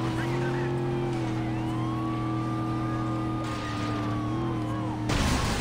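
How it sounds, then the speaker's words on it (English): A police car siren wails steadily over a droning car engine in the Saints Row 2 video game, loud and continuous, with a brief burst of noise at the end. "Police car fast as hell."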